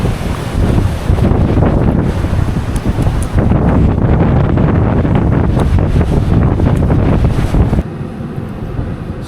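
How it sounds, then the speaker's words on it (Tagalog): Strong wind buffets the microphone in loud, continuous gusts with a low rumble, easing slightly near the end. "sobrang lakas talaga ng hangin"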